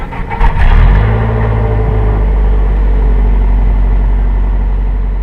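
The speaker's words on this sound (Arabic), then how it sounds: "وهذه السيارة تشتغل زي الحلاوة" A car engine catches after its blown fuel pump fuse is replaced, then settles into a loud, steady idle that hums on close by.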